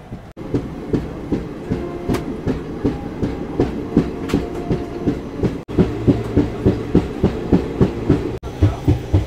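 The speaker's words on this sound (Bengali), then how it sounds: "ওই যে কোনো একটা ট্রেন ঢুকছে" A train rolls into a station with a steady, rhythmic clickety-clack of wheels over rail joints, loud and close, continuing evenly throughout.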